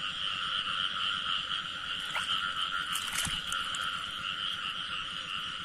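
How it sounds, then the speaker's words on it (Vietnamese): A female frog croaks steadily in a night-time wetland during a frog hunt, its dense buzzing call running continuously and close up, with a brief splash or rustle partway through. "Rồi con ếch cái."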